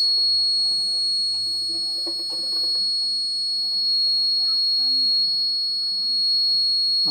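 The buzzer of a homemade fire alarm circuit sounds a thin, continuous high-pitched tone that holds steady throughout, while a person talks quietly underneath.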